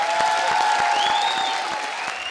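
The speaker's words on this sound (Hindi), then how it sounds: "सबसे जोरदार तालियां" Studio audience applause on a Hindi TV comedy show, steady clapping under a held musical tone and bright synth sweeps, fairly even in level throughout.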